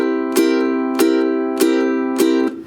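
Four evenly spaced ukulele strums on an open chord, each a sharp percussive attack whose ringing tone carries between hits, the pumping mute damping only the first string, played close and alone.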